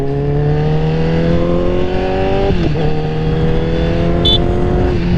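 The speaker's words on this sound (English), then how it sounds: "I like the way that it sounds too. The exhaust makes it sound really good." A Honda CBR1000RR sport bike's exhaust drones steadily while riding, a loud sustained engine note that dips briefly midway as the rider shifts, then holds its even pitch again; a short high beep sounds near the end.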